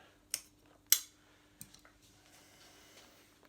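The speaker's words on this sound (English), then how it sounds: "I can then go with the scissors like this" Two sharp scissor snips cutting through leather car door trim, followed by a few softer clicks and faint handling noises.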